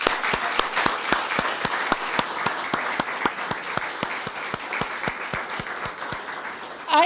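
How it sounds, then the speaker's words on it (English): Rhythmic, evenly spaced clapping at a nature poetry event at a reserve, a small audience clapping in unison for young poets, sharp regular claps at a steady beat for several seconds. "Can we give another round of applause for our young poets?"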